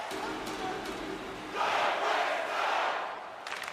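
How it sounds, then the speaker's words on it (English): Crowd noise from a hockey video game in a tied game, a steady murmur that swells into loud cheering midway through, then eases slightly toward the end. "You can feel the energy in this crowd."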